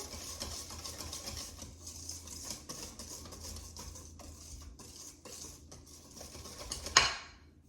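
A whisk working muffin batter in a bowl, a close, quiet, rhythmic patter of strokes and light taps against the bowl, ending in one sharper knock.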